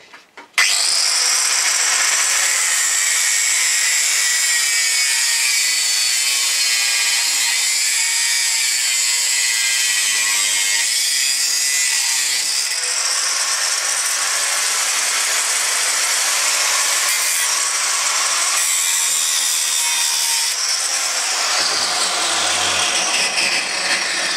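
Power tool cutting off a small metal tab from a motorcycle headlight bracket in a home garage, a loud continuous high-pitched whine that runs steadily for over twenty seconds with slight changes in pitch and no talk.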